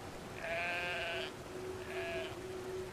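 Sheep bleating in the video game Brothers: A Tale of Two Sons, two separate nasal calls, the first longer and the second shorter, over a steady low hum, with no talking.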